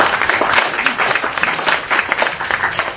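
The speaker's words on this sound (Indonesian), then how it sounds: "kita beli aplaus dulu kepada 5 pembicara kita" An audience in a debate hall applauds the five speakers, a steady wash of many hands clapping that stays loud and even throughout.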